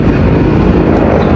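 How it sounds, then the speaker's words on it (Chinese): A US military helicopter flies overhead near the seaside at American Village in Okinawa, a loud steady roar with wind buffeting the microphone and no voices. "美军直升机"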